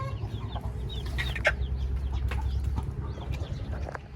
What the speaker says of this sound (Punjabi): ਇੱਥੇ ਆ ਰਿਹਾ ਜੀ ਮੁਰਗਾ, ਬਾਹਰ ਦਿਖਾਇਆ ਰਾਣਾ ਸਾਹਿਬ